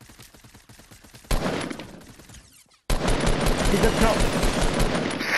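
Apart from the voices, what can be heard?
gunfire in the video game Fortnite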